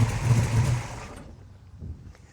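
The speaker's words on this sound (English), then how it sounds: "We'll let you listen to this engine" A 1969 Chevy Camaro SS 396 V8 engine rumbles with a deep, low growl for about a second, then quiets to a softer idle with a faint rev near the end.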